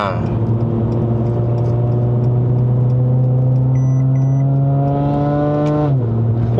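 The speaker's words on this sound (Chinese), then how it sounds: "C43的声音会比较好听，对我来讲，因为 V6的声音会比较尖" Mercedes-AMG C43 4Matic V6 engine in a W205 sedan on a test drive in Malaysia, a loud, sustained rising drone that climbs steadily through the revs, then drops abruptly at a gear change.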